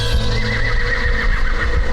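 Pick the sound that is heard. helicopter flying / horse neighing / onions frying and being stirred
horse neighing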